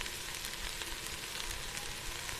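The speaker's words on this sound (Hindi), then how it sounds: "इसमें ये फ्राई हो रही है अच्छे से वेजिटेबल" Vegetables for fried rice sizzle steadily in a hot pan with black pepper, a dense continuous frying hiss that stays even and close throughout with no voices.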